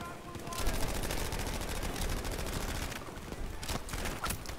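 Rapid sustained bursts from a stationary MG34 machine gun in a shooter video game, a dense rattling fusillade running steadily for several seconds with brief breaks near the end.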